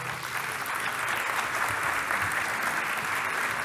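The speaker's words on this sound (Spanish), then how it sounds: "Señor ministro, un aplauso." An audience at a podcast event on European industry applauds a minister's arrival, a steady wash of many hands clapping, sustained and even, fairly loud, with no voices over it.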